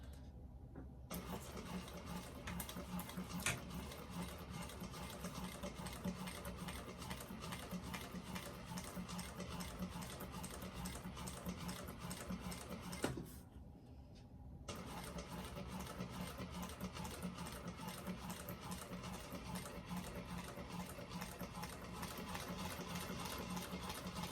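A sewing machine runs steadily, back stitching bonded polyester nylon bag panels, with a continuous close mechanical whir and a brief pause partway through before it resumes.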